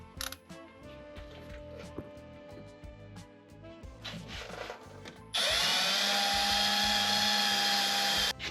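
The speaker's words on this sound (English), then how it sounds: "Whenever you're drilling through steel, you definitely want to go low speed, high pressure" A power drill bores into steel with cutting oil at low speed and high pressure, first in short bursts, then in a loud, sustained whine for the last few seconds.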